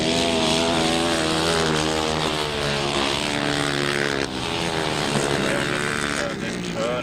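Grasstrack racing motorcycles at the 2002 Jason Relf & Fred Beard Memorial meeting roar at full throttle, a loud sustained engine whine with shifting pitch over a race commentator's voice.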